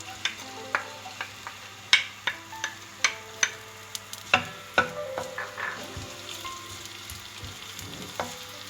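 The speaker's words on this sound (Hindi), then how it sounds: "प्याज को बिल्कुल हमने हल्का सा फ्राई करना है, डार्क कलर नहीं देना, बिल्कुल सॉफ्ट होने तक फ्राई करेंगे।" Onions frying in about four tablespoons of oil in a wok, a soft sizzle under a series of sharp, regular clacks from a stirring utensil striking the wok, close by.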